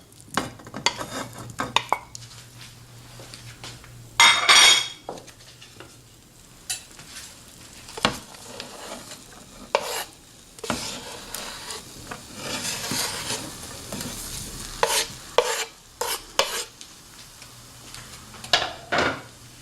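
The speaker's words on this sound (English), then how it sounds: "the butter does add some nice taste to the potatoes, onions, and ham as they saute" Ham, potatoes and onions sauté in butter in a pan for a ham potato omelet, a steady soft sizzle broken by occasional scraping stirs and clinks of a utensil against the pan, with no talking.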